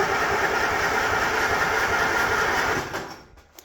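A cheap $300 auction tractor's engine runs close by with a steady, rough idle chug, then cuts out and winds down to quiet near the end.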